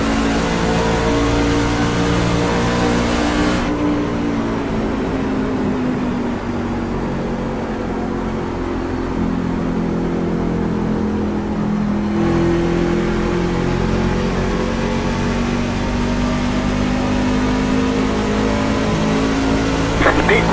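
Pickup race trucks circle Phoenix Raceway, a steady engine roar with rising and falling pitch as they pass, loud and continuous throughout with a voice on the radio over it.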